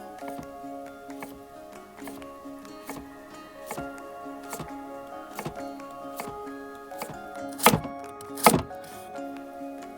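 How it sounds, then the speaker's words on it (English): A kitchen knife slicing a carrot into angled planks on a cutting board, a steady series of crisp, close chops with two louder cuts near the end, over a faint background tone. "This time, instead of slicing perpendicular to the carrot, I'm actually going to make planks at an angle, or cutting on a bias."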